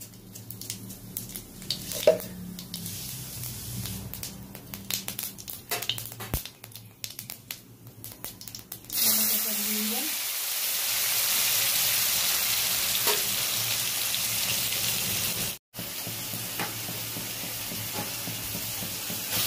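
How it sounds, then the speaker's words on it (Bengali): Cumin seeds hit hot oil for tempering while cooking an olkopi (kohlrabi) and potato dish, bursting into a loud, steady sizzle that holds for about ten seconds after quieter stirring and clinks. "এবার জিরে ফোড়ন দিয়ে দেবো"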